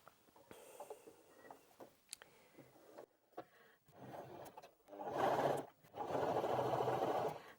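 A Janome J3-24 sewing machine runs a wide zigzag stitch in two loud, close, steady bursts of rapid needle chatter, preceded by scattered small clicks and handling noises; no voices.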